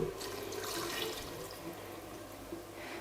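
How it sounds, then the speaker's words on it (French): Water pours steadily into a couscous pot of vegetables with a soft, continuous splashing rush that fades slightly toward the end. "donc je vais rajouter encore un peu d'eau"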